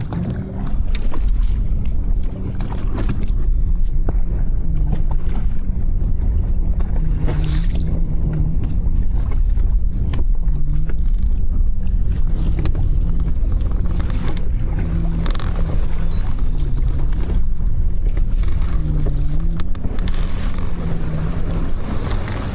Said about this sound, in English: That boat, look at that boat.